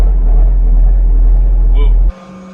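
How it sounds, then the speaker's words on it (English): A vehicle engine idles loud and close on its first cold start of the year, a steady deep rumble warming up that cuts off abruptly near the end, with a brief voice over it. "First cold start of the year, boys."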